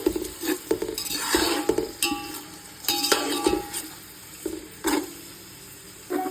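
Whole spices and fresh green leaves fry in a pot for biryani, with a low sizzle under repeated close metal spoon scrapes and clinks as the mixture is stirred; no one talks.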